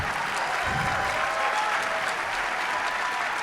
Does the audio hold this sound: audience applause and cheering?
yes